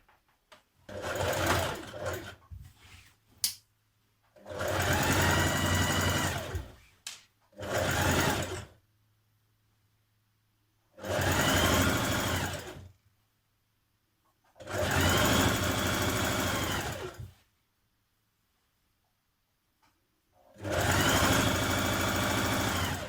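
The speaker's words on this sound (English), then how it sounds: "we're going to stitch down our side seams on each side, matching the notches" A sewing machine runs in five or six separate bursts of stitching, each a few seconds long with quiet pauses between, as the side seams of wide-leg trousers are sewn with a 1.5 cm seam allowance.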